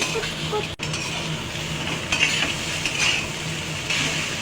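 Egg chow mein with vegetables being stirred and fried in a pan, a dense continuous sizzle with scraping and light utensil clinks throughout, fairly close and steady.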